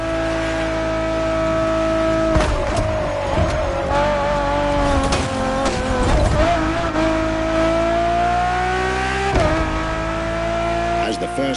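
A Ferrari Enzo in The Crew, its loud engine holding a steady high-pitched drone with gear shifts and rises and falls in revs, close and continuous, with some tire noise mixed in.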